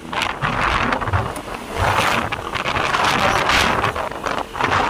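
Strong wind roars and buffets the microphone outdoors while people travel, a loud steady rush that swells and eases, with no talk.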